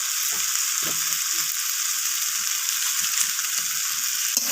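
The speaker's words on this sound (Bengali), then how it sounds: "সমস্ত কিছু আমি আবারও কষিয়ে নিচ্ছি।" Vetki fish head with Malabar spinach, spices, salt and a little sugar sizzles loudly and steadily in a frying pan, with occasional soft scraping taps of stirring under the continuous hiss.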